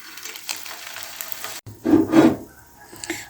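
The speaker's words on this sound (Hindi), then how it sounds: "तो अभी हम इनको फ्राई करेंगे।" Potato breakfast pieces frying in a hot pan, a close, steady sizzle with louder bursts of crackle and scraping partway through.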